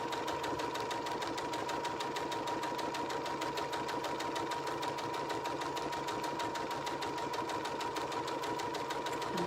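A sewing machine runs steadily, stitching the second row of a seam on a fabric book pillow with a fast, even mechanical whir and rapid needle clatter, close and unbroken from start to finish.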